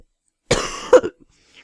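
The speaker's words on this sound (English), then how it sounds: "Cough and whatnot." A single sharp cough in two quick bursts, close and fairly loud, standing alone between stretches of silence.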